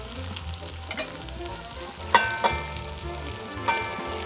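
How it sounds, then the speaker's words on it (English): Beef stew meat is added back into a pot of sautéed vegetables and herbs and sizzles steadily up close, with a few sharp utensil clinks against the pot. "I'm gonna add the meat back in."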